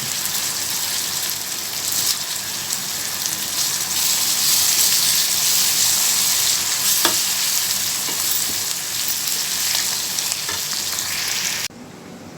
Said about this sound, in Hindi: अब ये तड़का रेडी है, अभी ये जा रहा है दाल के ऊपर।